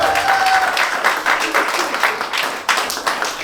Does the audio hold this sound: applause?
yes